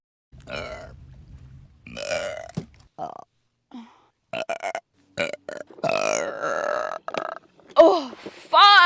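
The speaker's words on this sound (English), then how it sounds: "Got a burp that was just chilling in my throat." A woman lets out a string of burps, starting short and choppy and building to longer, croaky, drawn-out belches near the end, with short silences in between.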